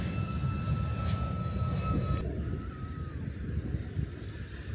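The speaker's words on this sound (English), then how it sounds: "there's an aeroplane going over" An aeroplane passes overhead on holiday in Lanzarote, a steady broad engine rumble at moderate distance with a faint high whine, heard alone without talk.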